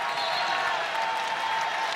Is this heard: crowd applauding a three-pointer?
yes